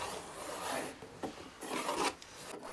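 A hand saw rasps through a ceiling board while an inspection hole is cut in a ground-floor Western-style room, giving steady close scraping strokes with brief pauses and no talk.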